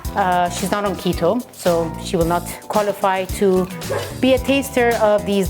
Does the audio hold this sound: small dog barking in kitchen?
yes